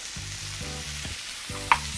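Chopped ginger sizzles in hot oil in a frying pan with a steady, fairly soft crackle, and a brief sharp clink rises near the end.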